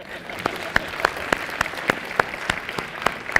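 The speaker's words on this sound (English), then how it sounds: "It's a question actually that deserves a clap." An audience at a lecture hall at IIT Guwahati claps in a steady round of applause, with sharp individual hand claps standing out at a fairly even rhythm across the moment.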